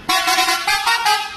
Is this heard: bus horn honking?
yes